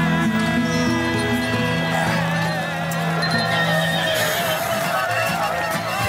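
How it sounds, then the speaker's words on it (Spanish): Wild colts at a rodeo neigh and whinny loudly and almost without pause, with clip-clopping hooves and a dense crowd bustle underneath. "Esos potros desarman a cualquiera."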